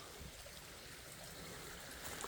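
Forest stream flowing along a hillside, a faint, continuous broadband rush and trickle close by, with no voices over it.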